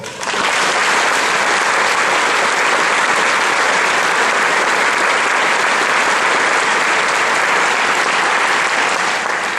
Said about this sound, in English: please give these fine young American soldiers a round of applause